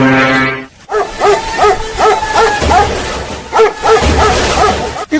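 A dog barks repeatedly at close range, a series of sharp, loud barks in an irregular rhythm, with a brief tonal hum at the start.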